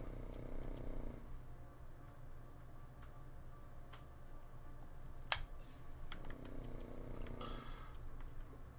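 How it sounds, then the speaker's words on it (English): A pet snores softly indoors beside a computer running a No Man's Sky survival session, with two drawn-out breathy snores at the start and near the end over a steady low hum and a single sharp click. "Are you going to sleep, Marley? Are you snoring?"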